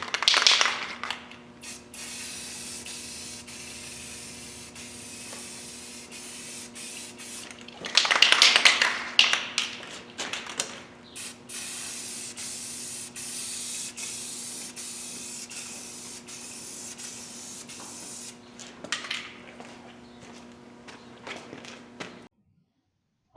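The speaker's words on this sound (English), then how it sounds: "So now we get our third coat of paint on here" Paint sprayed as a third coat over primed metal, long hissing passes broken by short pauses, with light clicks and handling noises between bursts, close and fairly quiet.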